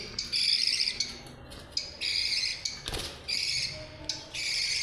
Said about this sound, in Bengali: পাখি দেখছো? কত সুন্দর কিচির মিচির ডাকে।